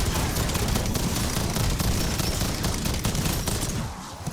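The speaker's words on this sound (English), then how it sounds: "And you can kind of just burst fire" Sustained rapid LMG burst fire in Black Ops 7 Zombies, a dense, loud continuous rattle of gunshots that tapers off near the end, with no talking.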